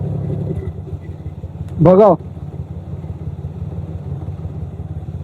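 A water park ride vehicle rumbles steadily at low pitch, with a brief rising horn-like toot near the start. People talk over it.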